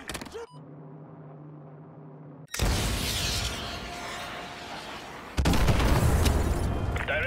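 A missile strike explodes during the Contingency mission of Call of Duty: Modern Warfare 2 Remastered: a sudden heavy boom with a long rumbling roar, then a second louder blast, following a radio voice's steady hum.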